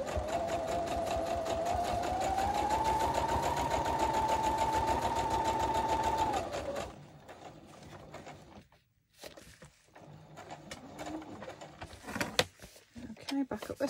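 A sewing machine stitches a doily onto a journal cover in a steady, fast whirring run for several seconds, then stops, leaving quieter handling clicks and rustles.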